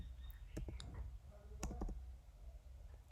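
Several sharp computer mouse clicks ring out during online store setup, some single and some in quick pairs, fairly close over a low background hum.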